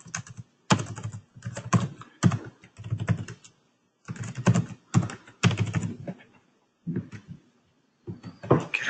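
Password typed on a computer keyboard during a database installation: quick clusters of close, crisp key clacks in bursts with brief pauses, plus a louder final keystroke, no talk.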